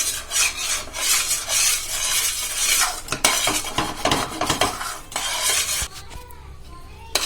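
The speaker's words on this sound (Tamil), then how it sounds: "கை விடாமல் நல்லா கிளறிட்டே இருங்க." A thick peanut katli mixture is stirred and scraped in a pan with continuous rasping strokes, close and fairly loud, with clinking of the spoon against the pan and a few sharp taps near the end.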